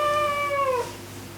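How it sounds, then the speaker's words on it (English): A single clear, drawn-out cat meow rings close and loud, sliding slightly downward in pitch before fading into quiet room tone. "This is my cat."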